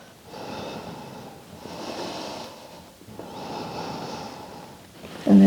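Slow, deep yoga breaths through the nose come in three long, rhythmic inhale-exhale cycles, close and clear, ending with a sudden louder sound.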